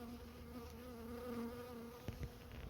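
Honeybees buzz at an opened hive during an inspection, a steady, faint, even hum with a couple of soft knocks near the end and no talking.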